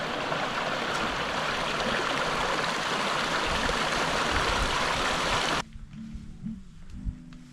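Forest creek in an NSW state forest flows close by, a loud, steady rush of water that cuts off abruptly near the end, leaving faint rustling.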